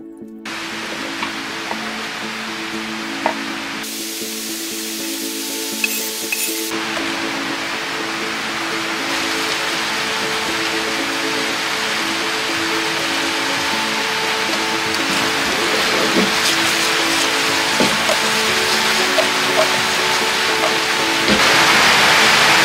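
Steady rain falling on a small off-grid farm, a continuous broad hiss that slowly grows louder over twenty seconds, with faint occasional knocks and drips in the background.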